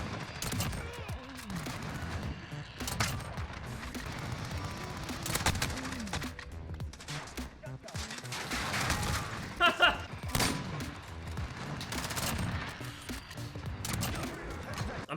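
Kar98k rifle shots mixed with bursts of gunfire in a shooter video game, sharp reports scattered over a busy, noisy background, with a voice talking at times.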